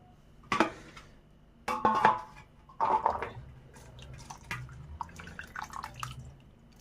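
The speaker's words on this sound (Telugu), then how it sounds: "ఒకసారి నీళ్ళతో శుభ్రంగా కడుక్కుంటున్నానండి" Vegetable peel being rinsed clean with water, giving three distinct splashing bursts close by, followed by softer dripping and trickling sounds.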